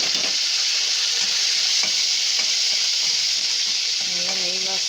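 Ingredients sautéing in ghee in a pan while making millet pongal: a steady, close, loud sizzle with faint stirring clicks throughout, and a brief voice near the end.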